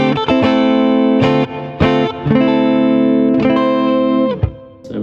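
An Ibanez JS2480 electric guitar played through distortion rings out in loud, sustained chords and notes, with brief breaks between phrases and a thick, buzzing, harmonically rich tone.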